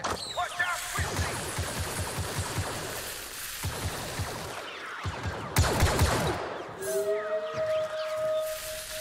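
Rapid bursts of blaster fire crackle in Star Wars Battlefront 2 during an Ewok Hunt match, repeated volleys of zapping shots mixed with game effects and a brief tonal whine near the end.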